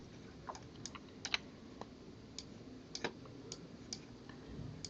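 Fingers tapping on a computer keyboard, a quiet scattered series of crisp key clicks at an uneven pace, close and alone against a faint background hum.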